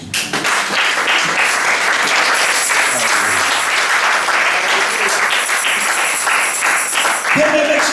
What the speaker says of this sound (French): Est-ce que tu peux acclamer Dieu?